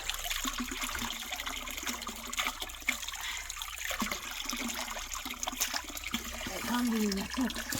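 Water pours steadily from an old stone public fountain built in 1951, a continuous close trickle and splash running throughout while people talk nearby.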